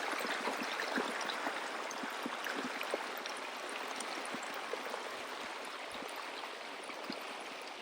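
Water from pond plumbing at a Ugandan fish farm pours steadily into a fish pond, a continuous soft rushing and trickling that stays even and fairly faint throughout, with no voices.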